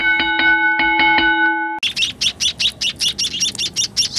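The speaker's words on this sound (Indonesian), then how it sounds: "Hari ini saya mau kasih makan burung emprit." Young Javan munia (bondol haji) chicks, 17 days old and newly fledged, chirp in a rapid run of bright, evenly spaced high peeps after a brief tonal chime at the start, close and loud with no talking.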